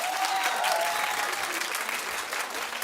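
Studio audience of a talk show claps steadily and loudly, a dense continuous patter of many hands throughout.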